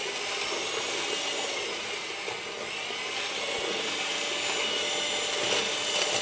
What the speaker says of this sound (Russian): Сначала я слегка взбиваю, где-то буквально полминутки.